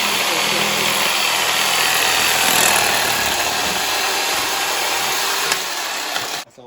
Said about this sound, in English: So right now I have some 2-inch PVC pipe, and I'm going to go ahead and cut it.